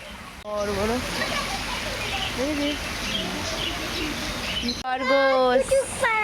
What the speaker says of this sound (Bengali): চলো তোমাদের পাখিগুলো একটু দেখাই।